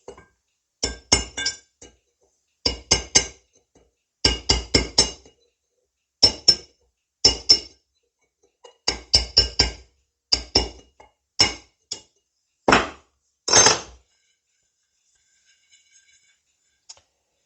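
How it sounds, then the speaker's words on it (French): Hammer and chisel chipping at a bowl, a series of sharp glassy clinks in quick groups of two to four strikes with short pauses between, loud and close in an otherwise quiet room, ending with a scraping rasp. "Allez, marteau burin."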